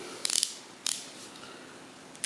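A few quick bursts of fine, rapid clicks from a fine-tooth PB Swiss ratcheting T-handle bit holder, close and crisp, separated by short pauses.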